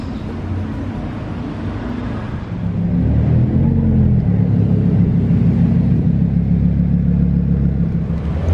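A Ford GT supercar in Monaco, a deep engine rumble that steps up and grows louder partway through, then holds a strong, throbbing low idle close by.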